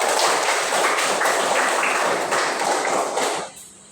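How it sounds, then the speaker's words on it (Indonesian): A classroom of students claps together during a mathematics lesson, a dense, steady burst of applause lasting a few seconds before it quickly dies away. "Kita beri tepuk tangan"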